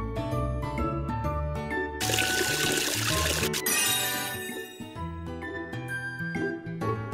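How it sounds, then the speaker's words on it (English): Water pours in a steady rush for about two seconds to rinse faces in a kids' face-washing video game, then gives way to a glittering chime over playful background music. "Wash their faces again with water."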